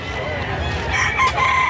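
A gamefowl rooster, a Gilmore Hatch bloodline bird, crows once near the end of a short stretch at a busy Padre Garcia poultry market, over steady crowd murmur and other fowl noise.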